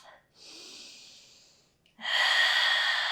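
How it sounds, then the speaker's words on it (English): Heavy breaths follow a yoga flow, one long audible exhale and then a stronger, louder breath, close to the microphone. "Catching up with our breath."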